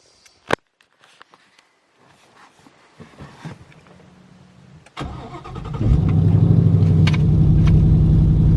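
A Ford Mustang parked in a windy garage corridor: a door clunks and there is faint movement, then the starter turns and the engine fires, settling into a loud, steady, rumbling idle up close.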